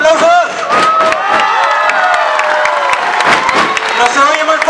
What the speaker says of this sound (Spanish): ¡Esos aplausos!